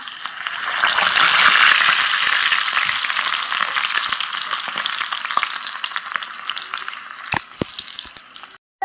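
Raw banana chips frying in hot oil, a dense, loud, continuous sizzle with scattered crackles and pops that gradually thins before a sudden cut near the end, no talking.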